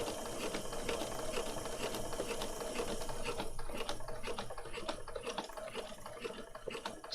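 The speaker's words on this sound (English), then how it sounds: "And just sew over it." A sewing machine stitches over sari silk on a thin card journal cover, a steady fast mechanical whir with rapid needle ticks running continuously and close, with no speech.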